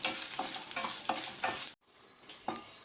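Dried Byadagi chillies roasted dry in a pan, stirred with rhythmic scraping strokes and a light crackle, then a brief pause and a single final stir.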